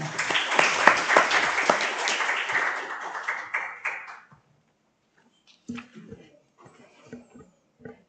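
Audience applause at a Korean National Assembly policy forum greets the next speaker, a dense burst of clapping for about four seconds that thins out and stops, followed by sparse room noise and a voice starting to speak.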